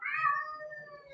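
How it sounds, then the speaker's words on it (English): A pet cat lets out a single clear meow that rises and then slides down over about a second, close and fairly loud, with no talking over it. "and that is my cat."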